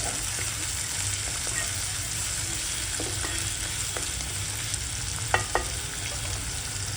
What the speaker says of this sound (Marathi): मी जे 4-5 कांदे उभे कापले आहे ते टाकते आणि आपण एकत्र करू, गुलाबी करूया